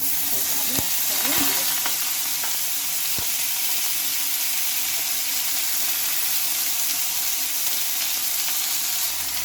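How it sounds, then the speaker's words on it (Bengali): Cucumber, onion, green chillies and pointed gourd sizzle and crackle steadily in hot oil in a wok, a continuous close frying hiss with a few soft knocks from stirring early on. "এবার কড়াই আমি তেল দিয়ে নিয়েছি আর যেটা শসা পেঁয়াজ কাঁচা লঙ্কা আর পটল কেটে রেখেছিলাম"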